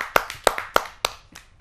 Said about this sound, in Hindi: आप सबकी जोरदार तालियों से।